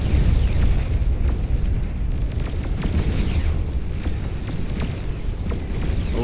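Bombers drop ordnance in the strategy game Beyond All Reason, producing a continuous roar of overlapping explosions and rumbling booms with sharp cracks scattered throughout, loud and dense across the whole stretch.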